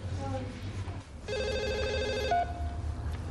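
A telephone rings with a steady electronic trill in a house, sounding clearly in the middle of the scene over a low background rumble.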